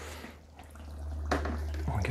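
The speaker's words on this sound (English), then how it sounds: "To this sugar, I'm going to add about 21 liters of water" Hot water poured onto sugar for a distilling sugar wash, a soft trickle that swells into a louder rushing pour partway through, over a low steady hum.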